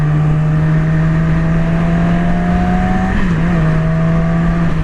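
A Yamaha R6 motorcycle engine drones close and loud with a steady high-pitched tone that rises slowly, then drops briefly around a gear shift before settling again; no voices.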